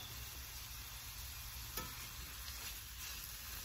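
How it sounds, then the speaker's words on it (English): Mushrooms cooking down in a pan, a faint, steady low sizzle with a single soft clink of a utensil midway, no talking. "Let's throw in our mushrooms. We're gonna let this cook down."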